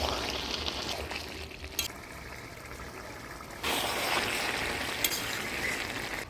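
Fried fish goes into masala frying in a pan: a sizzling, bubbling hiss that drops off briefly, then surges back louder with sputtering and stirring, close by and without speech.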